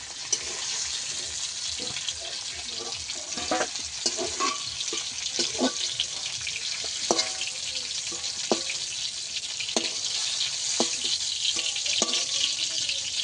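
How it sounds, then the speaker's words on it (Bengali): Ridge gourd sizzles steadily as it fries in oil, with scattered clicks and scrapes of stirring throughout; no talking. "চিচিঙ্গাগুলো ঠিক আমি এইভাবে ভেজে নেব।"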